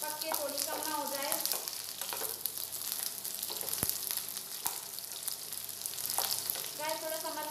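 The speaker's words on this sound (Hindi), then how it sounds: "भिंडी को हमें हाई फ्लेम पे फ्राई करना है इसको, जब तक कि पक के थोड़ी कम ना हो जाए।" Okra (bhindi) frying in oil over a high flame, a steady close sizzle and crackle with occasional stirring scrapes and clinks, no talking.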